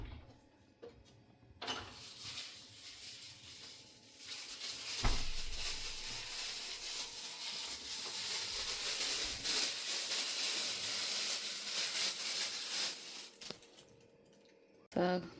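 Polish white sausages (biała kiełbasa) for Easter simmer in a pot of water, giving a steady broad hiss and bubbling that swells and holds for most of the stretch, with a few brief knocks and low voices now and then.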